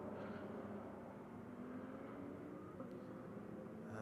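A Nissan Nismo twin-turbo V6 GT race car at Mugello during a Trofeo GT Sprint race gives a steady, distant engine drone that holds evenly throughout without a clear rise or pass.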